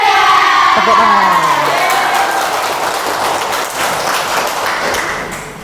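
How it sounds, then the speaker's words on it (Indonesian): Children clapping and cheering loudly in a school classroom during a guidance lesson, a dense burst of shouts and whoops that begins strong and gradually thins as the applause continues. "Tepuk tangan."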